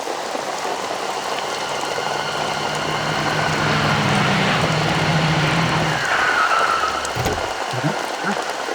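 Steady rain hisses across the scene, with a vehicle passing nearby partway through and a few brief knocks toward the end.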